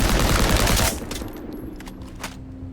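Weapon fire in The First Descendant, a loud dense burst filling the first second, then cutting off and leaving faint scattered echoes and a low hum trailing behind.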